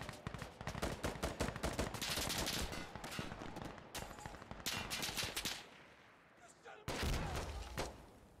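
Rapid, sustained video game gunfire rattles in loud machine-gun bursts with brief pauses, an enemy shooting at the player, mixed with thuds and some talk.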